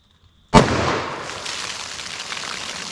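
.44 Magnum revolver firing a Buffalo Bore lower-recoil load into ballistic gel outdoors, a single sharp loud report after brief quiet, followed by a long fading echo tail.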